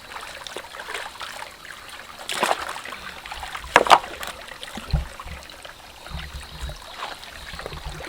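Water trickles and splashes through a small village irrigation channel near the Bhutan border, a soft, close, steady flow with a few brief splashes.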